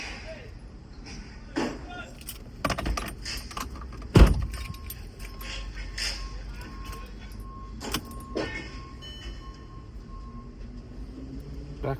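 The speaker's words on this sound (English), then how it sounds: "Okay, turn the ignition off, take the key out." Car key pulled from the ignition of a VW Eos, a bright close jangle of keys rising briefly mid-clip, with softer clinks and a faint cabin hum around it.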